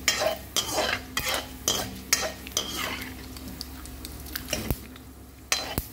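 Onions and capsicum fry in a kadai for oats upma. A spatula scrapes and taps rhythmically against the pan over a steady low sizzle, close up.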